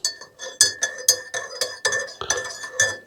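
A metal spoon stirring coffee in a cup, rapid bright clinks against the sides repeating in an irregular rhythm, close and clear.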